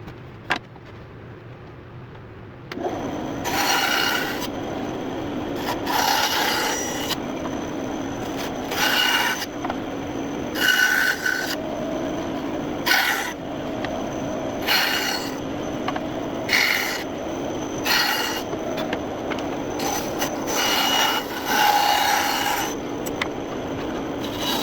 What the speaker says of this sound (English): Now what I'm going to cut out is this part over here and this part over here, and I'm going to do that on my bandsaw.